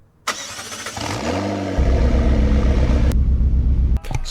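A McLaren 570GT in a Roblox driving game cranks over and fires up, the starter whine rising into a steady, loud idle rumble that runs on before cutting off.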